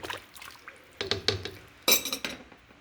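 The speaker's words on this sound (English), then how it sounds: "I just go 1 round and then I stir it." A spoon stirs green chicken pozole in a pot, giving a few light clinks and liquid sloshes in short bursts, fairly quiet with no talk.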